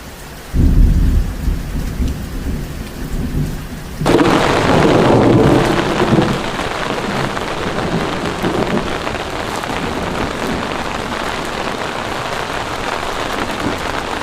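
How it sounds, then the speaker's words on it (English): Camping by the Murray River in South Australia during a storm, a heavy thunder crack and long rolling rumble over steady, loud rain hitting surfaces nearby, the downpour continuing evenly afterward. "Bit of rain and thunder now."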